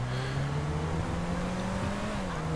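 Game car engine droning steadily while driving in GTA 5 Online, a continuous mid-pitched hum with slowly rising pitch, loud and close with no talk over it.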